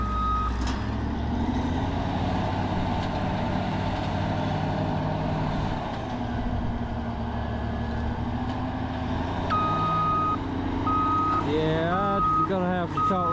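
Reversing beeps from a dumpster truck pulsing steadily over a loud diesel engine idle and rumble, with air-brake hiss and a wavering squeal toward the end.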